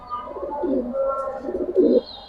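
Giribaz and coloured fancy pigeons cooing up close, a few warbling throaty coos rising and falling in short phrases, loudest near the end, with little else around.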